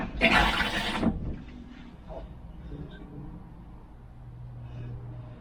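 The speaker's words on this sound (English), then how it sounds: "Foot flush." Foot-pedal flush of a camper toilet in a standard rental motorhome: a brief loud whoosh of rushing water lasting about a second, then fading to quiet room noise and a low hum.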